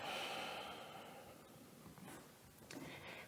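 A slow, soft exhalation during a yoga session, a breathy sigh fading away, followed by a couple of faint nasal breaths and small rustles, close and quiet.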